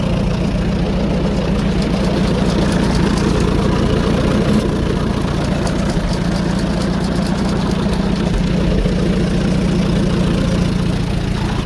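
Tractor engine running steadily with the PTO shaft engaged, a continuous low, rumbling drone with a mechanical knock-like texture, even in loudness for about twelve seconds, no one speaking.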